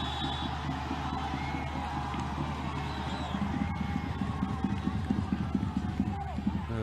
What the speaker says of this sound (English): You can hear in the background they're cheering every touch as well.